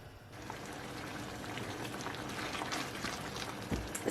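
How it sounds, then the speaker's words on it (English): Shredded beef in reducing liquid simmering on the stove: a steady, close bubbling and hissing wash with small pops throughout, alone with no talk. "So our meat has been simmering on the stove for about an hour"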